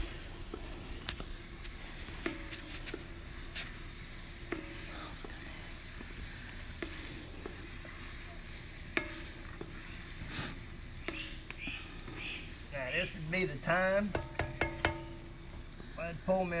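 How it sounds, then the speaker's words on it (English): Meat and andouille sausage being stirred into a pot of jambalaya, a faint sizzle with soft scraping and squishing, then louder clattering stirs toward the end, with quiet whispery voices in the background. "Going to give that a little stir."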